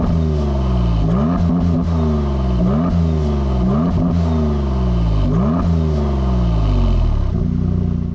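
A Maserati MC20 supercar's V6 engine revs repeatedly, each loud blip climbing and then dropping back in a steady run of about six throttle bursts with no talking.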